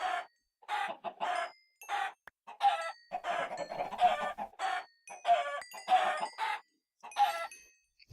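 Chickens cluck and squawk in the Minecraft modpack Agrarian Skies, a video game, in a busy run of repeated short bird calls with brief gaps, loud and close, with no speech.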